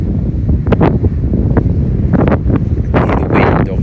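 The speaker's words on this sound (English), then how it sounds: "hear the wind obviously" Steady wind blowing on a Barbados beach, a loud continuous rush buffeting the microphone with a few brief gusty bursts throughout, no voices heard.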